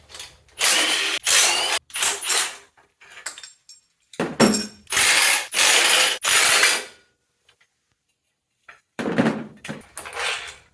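A ratchet spins repeatedly as bolts come off the AC bracket of a 6G72 engine during an indoor teardown of a 1991 Dodge Daytona, loud close bursts of rapid clicking separated by short pauses, with no talking.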